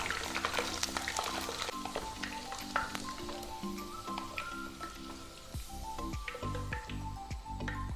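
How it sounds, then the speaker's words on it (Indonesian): Potatoes frying in hot oil for croquettes, a busy, continuous sizzle with crackles and pops throughout, close and steady, with occasional clinks and stirring noises. "kentang yang sudah kita goreng"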